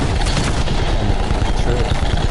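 Heavy artillery and gunfire in a tank battle video game, a dense, loud, continuous roar of booms and shots filling the whole stretch with no clear gaps.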